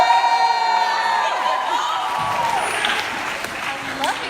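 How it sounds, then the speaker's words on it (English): A crowd cheers, whoops and shouts at a community report-release event in a church, loud and sustained, with high yells rising above the roar and clapping joining toward the end. "make some noise if you plan to take action at any of No Cop's future events"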